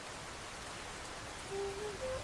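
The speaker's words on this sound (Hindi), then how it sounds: "तभी बाहर तेज बारिश होने लगती है।" Heavy rain pours outside as an effect in an animated Hindi moral story, a steady dense hiss filling the scene, with a brief faint whistling tone rising near the end.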